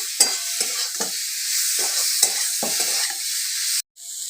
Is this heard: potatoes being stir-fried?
yes